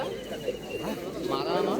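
Pigeons cooing in low, soft throaty calls at the bustling Galiff Street pigeon market in West Bengal, mixed with nearby voices and market chatter.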